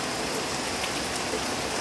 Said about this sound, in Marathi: पहा पाऊस मोठा पडतोय